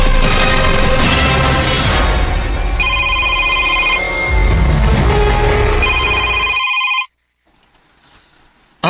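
A cellphone ringtone rings loudly in a Filipino radio drama, repeating electronic tones over a busy backdrop of music and effects for about seven seconds before cutting off to near silence.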